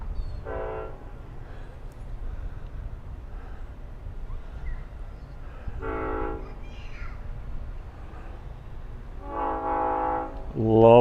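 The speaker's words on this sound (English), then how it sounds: "Love that horn." Long Island Rail Road train approaching at Westhampton, sounding repeated horn blasts in several separated bursts over a low rumble, growing louder toward the end.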